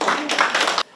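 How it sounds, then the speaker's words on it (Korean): Workshop participants at a church synodality meeting clap briefly in a short, close burst lasting under a second, then the sound cuts off abruptly. "박수를 보냅니다."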